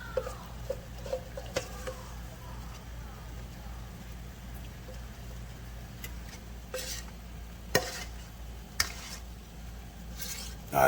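Food fries quietly in a cast iron pan, a faint, steady sizzle with occasional sharp clicks and taps from utensils.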